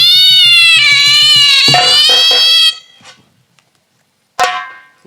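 A performer in a nautanki folk play imitates a cat with long, loud, wavering meows, followed by a short pause and one more brief yowl, close and prominent.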